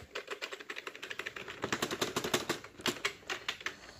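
Fast clicky keystrokes on a Slayer gaming keyboard tap out an irregular, steady patter that builds in loudness after the first second, close to the microphone with no talking.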